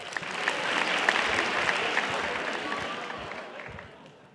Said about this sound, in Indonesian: Tepuk tangan dulu dong buat dia dong.